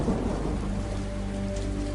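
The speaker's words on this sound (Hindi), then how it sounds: "कैसी बिजली कड़क रही है।" Heavy rain pours in a dense, steady hiss over a deep rolling rumble of thunder, loud and continuous throughout a thunderstorm, with no voices.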